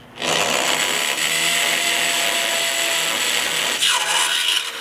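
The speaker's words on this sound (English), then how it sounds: "So we're going to go ahead and drill the bottom of this aluminum now." A loud, steady grinding whine of a drill biting into aluminum while installing a solar kit, continuous for several seconds with a brief change in pitch near the end.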